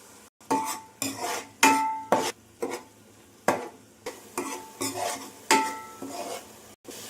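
Masala paste frying in oil for a fish curry, stirred with a spoon that knocks and scrapes the pan in irregular strokes over a faint sizzle, close and fairly quiet.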